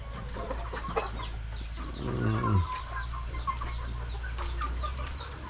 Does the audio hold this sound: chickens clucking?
yes